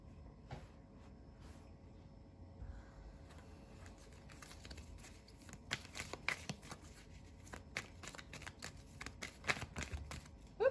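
Tarot cards being shuffled and riffled close by, quiet at first, with soft rustling and flicking that grows busier and louder toward the end, each card slap sharp and brief.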